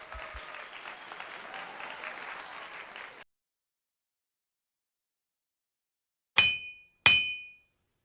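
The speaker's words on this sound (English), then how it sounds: "Give yourself a clap." An audience claps steadily for about three seconds at a rhythm-section sound-guessing game, then falls silent before two sharp, bright clacks ring out close by.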